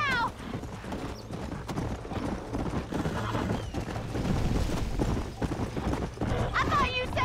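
Horse hooves clip-clop in a steady galloping rhythm through Red Dead Redemption gameplay, with occasional whinnies, loud and close, under frequent overlapping talk from players.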